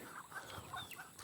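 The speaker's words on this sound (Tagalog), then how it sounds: "Yung mga bibe, manok, ayun, susunod na nga sila eh" Chickens and ducks cluck and mutter together close by on a farm, a steady busy chorus of overlapping calls with no pauses.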